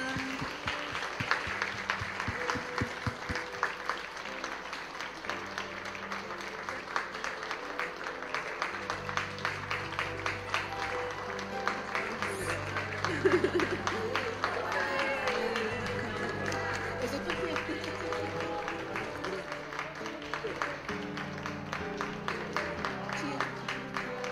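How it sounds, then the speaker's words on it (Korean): An audience at a church service applauds steadily and warmly for a long stretch, with dense clapping throughout, a few voices mixed in and some music underneath. "박수 부탁드립니다."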